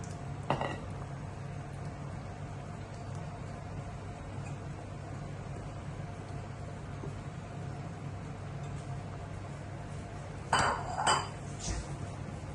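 Kerala pidi rice dumplings with coconut being stirred in a pot: a soft continuous bubbling background, one utensil clink early on and a louder burst of metal scraping and clinking near the end.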